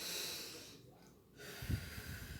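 Calm, deep breathing from a breathing exercise for young children: steady, airy breath noise close by, easing to a quieter pause, then a short, fuller exhale near the end. No talking.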